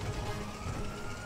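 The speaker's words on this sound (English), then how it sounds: "Ambulance." An ambulance siren in GTA 5 wails through dense, loud traffic and engine noise, steady and close for the whole stretch.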